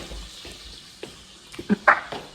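Vegetables sizzling as they hit a hot tempering of oil and spices in a pan, with a steady frying hiss and a few louder stirring clatters near the end.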